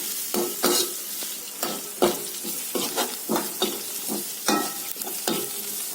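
Thinly sliced onion and green chili fry in oil tempered with mustard seeds, cumin and asafoetida, giving a loud close sizzle broken by frequent clattering stirs and spatula scrapes against the pan, with no talking.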